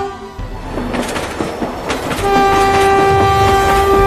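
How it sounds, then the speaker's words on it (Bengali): A train rumbles closer as a sound effect in a horror audio drama, wheels clattering loudly before a sustained horn blast rises and holds to the end. "ততক্ষণে ট্রেন আমাদের একদম কাছে চলে এসেছে।"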